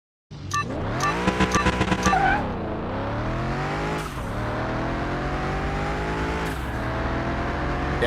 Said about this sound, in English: I'm gonna go ahead and get some quarter-mile runs in there.